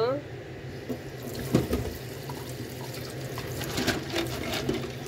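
Dried soup ingredients such as huai shan, lotus seeds and ginseng with lean meat are rinsed under running tap water, a close steady trickle with occasional splashes and clatter over a low background hum.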